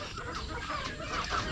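Hens clucking close by in a backyard in the Philippines, a low, steady murmur of soft clucks over a noisy outdoor background, with no talking.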